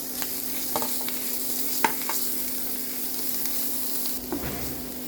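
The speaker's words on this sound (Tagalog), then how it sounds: "And now let's fry our grated ginger." Grated ginger frying in cooking oil in a pan, a steady close sizzle with a faint hum and occasional soft clicks of stirring.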